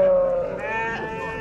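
A sheep at a livestock market in Kara-Balta gives one loud, close, wavering bleat that trails off, with faint voices behind it.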